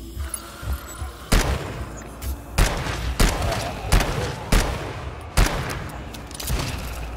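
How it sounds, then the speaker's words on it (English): Sentry gun firing in the video game GTFO, a series of sharp, loud shots spaced roughly every half second to second against a low rumbling background. "Got your sentry shooting?"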